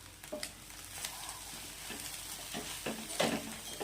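Egg methi bhurji stirred in a frying pan: a steady soft sizzle of frying with scraping stir strokes and light spatula taps against the pan, close and fairly quiet, no talking.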